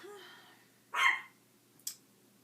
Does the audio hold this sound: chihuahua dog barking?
yes